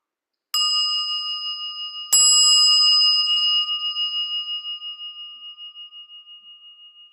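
A meditation bell is struck twice, a clear single ring followed by a second strike about a second and a half later, each tone sustaining and slowly fading into silence with a gentle shimmer.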